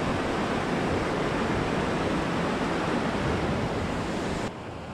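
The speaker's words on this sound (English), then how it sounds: "The hot day causes the rivers to swell with snowmelt" A mountain river in Georgia, swollen with snowmelt on a hot day, roars with a dense, steady wash of rushing water, loud and close, cutting slightly quieter near the end.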